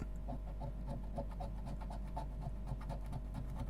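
Scratch-card lottery ticket scraped with steady, rapid strokes, a rhythmic close-up rasping that runs the whole time with no talk over it.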